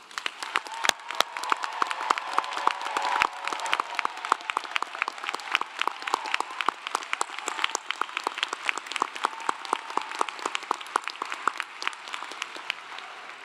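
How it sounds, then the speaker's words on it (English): A large crowd at a Clemson University doctoral commencement ceremony breaks into sustained applause, dense overlapping claps holding steady for over thirteen seconds with no voices over it. "join me in recognizing our graduates with a rousing round of applause"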